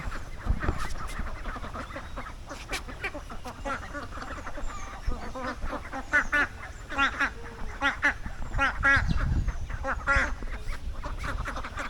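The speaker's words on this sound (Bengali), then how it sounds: "সুন্দর এই যে সাদা হাঁসগুলো জলকেলি করছে" A flock of white ducks quacks repeatedly and overlapping on water, loud and close, with splashy outdoor background noise throughout.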